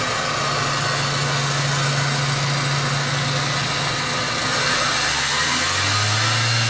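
Mitsubishi Galant engine running steadily up close, a loud continuous idle hum with a drop in tone near the end as the revs change, no voices present.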